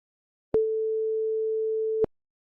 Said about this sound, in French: Une sonnerie.